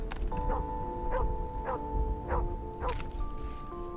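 Dog barking in the video game Where the Heart Leads: five short, evenly spaced barks at mid distance over a steady low ambient hum and a sustained musical tone.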